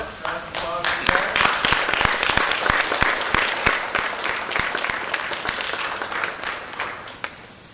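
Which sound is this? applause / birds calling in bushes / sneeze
applause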